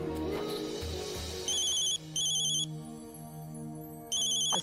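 A phone rings with a call from Australia, giving repeated electronic ringtone bursts with pauses between them, loud and close, alone without talk.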